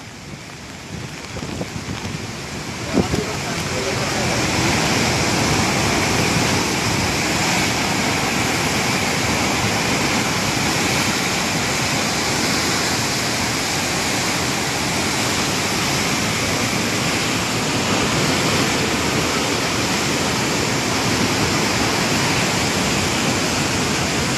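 Loud, continuous roar of flooding river water overflowing the Madhopur Headworks in Punjab, steady and enveloping throughout, with no voices.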